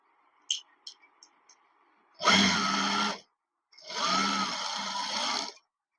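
Sewing machine stitching an unlined pair of trousers in two steady runs of about a second and a half each, loud and close, with a pause between and a few light clicks before.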